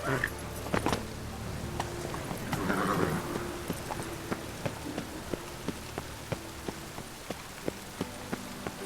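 Horse hooves clip-clopping at a steady gallop-like rhythm in rain within The Witcher 3, with patter of rain throughout and a brief burst of noise around the third second; no speech heard.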